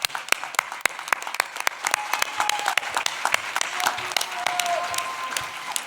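A seated audience at an awards event gives a round of applause for an honoree, scattered close claps sharpening into a fuller, steady ovation with faint voices murmuring underneath.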